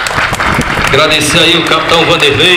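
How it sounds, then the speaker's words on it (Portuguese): Crowd applause rises at a civic emancipation anniversary ceremony in Juazeirinho, Paraíba, with a military police band present, steady clapping blending under a man's announcement over a loudspeaker. "Salva de palmas."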